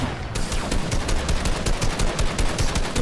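Fast, loud automatic gunfire in Fortnite Zone Wars, a steady rattling stream of shots lasting the whole moment.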